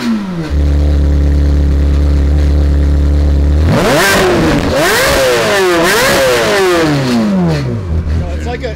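Ferrari 360 with a 3.6 liter V8 revving hard after a steady idle, the exhaust note climbing and falling through several sharp sweeps, loud and close, with voices talking over it.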